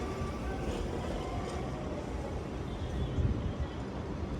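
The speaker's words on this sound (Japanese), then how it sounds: "次から次へと来る路面電車" A Toyama city streetcar passes along a street, a steady low rumble close by with a slight swell near the end.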